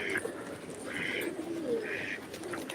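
Pigeons coo softly in a few repeated low calls over a steady background hum, somewhat distant.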